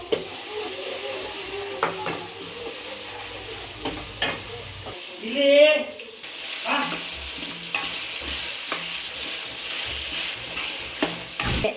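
Ginger garlic paste fries in a pan while a spoon stirs it, giving a steady close sizzle with scraping strokes and one brief louder burst partway through.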